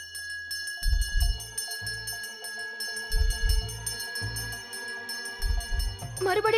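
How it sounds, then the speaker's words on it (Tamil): A bell rings repeatedly in bright, sustained tones over low, rumbling bursts, with the ringing growing busier near the end. "மறுபடியும் பெல் சவுண்ட்."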